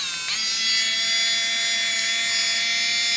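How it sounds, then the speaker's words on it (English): A power drill bores through thick material with a high, steady whine that starts abruptly, holds loud and close for about three seconds, then begins to wind down. "let's just see if I can drill through"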